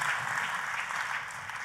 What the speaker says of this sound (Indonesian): Tepuk tangannya sekali lagi yang paling meriah buat Yesus Tuhan kita